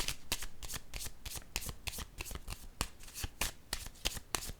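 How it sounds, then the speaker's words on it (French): Tarot cards are handled and laid down in a rapid series of crisp slaps and riffling shuffles, close and alone with no talking. "Je vais déposer une carte ici."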